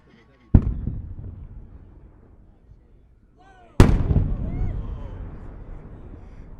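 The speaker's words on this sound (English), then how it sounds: "This is a test of a more powerful bursting charge, which is the type of powder that's used to break the shell open" Two sharp, loud bursts from multi-break Maltese-style cylinder firework shells with a stronger bursting charge, each a booming crack trailing into long rolling echoes outdoors in winter, the second burst louder, with faint voices between.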